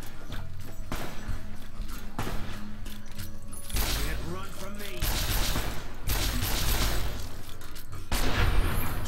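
Bursts of gunfire ring out in the Fallout: New Vegas video game during an ambush, clustered shots and rapid volleys crackling across the scene over background game sound, with a voice talking at times.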